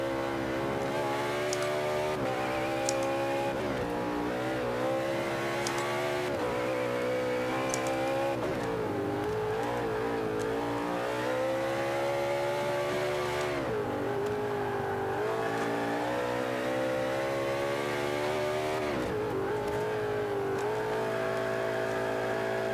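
Race car engine in the endurance racing video game set at the 24 Hours of Nürburgring, revving steadily with pitch rising and falling through gear changes and lifts, loud and continuous throughout with no talk.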